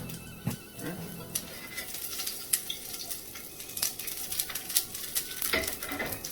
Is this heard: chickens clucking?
no